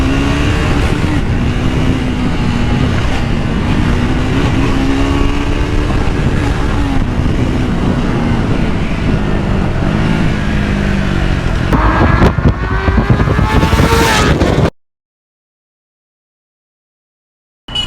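A Triumph Speed 400 motorcycle engine revs hard while riding, a loud, continuous close-up roar with rising and falling pitch as the throttle changes, cutting off abruptly near the end.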